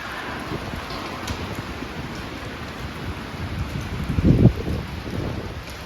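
Strong stormy wind with rain in Ukhta, a dense continuous roar of gusts and rainfall buffeting the microphone, swelling briefly near the end, with no voices.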